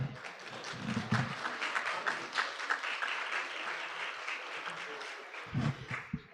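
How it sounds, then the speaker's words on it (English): Applause for the panelists at the close of a business conference in New Jersey, moderate steady clapping from the audience with a few murmured voices at the start and end. "Let's give them another round of applause."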